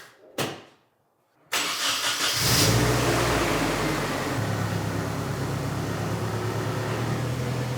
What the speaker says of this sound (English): Well, first, let's move this car.